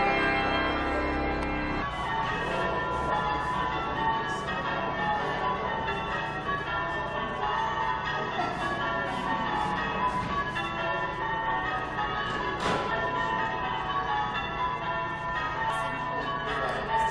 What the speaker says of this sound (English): Saturday's ringing completed, the bells were upturned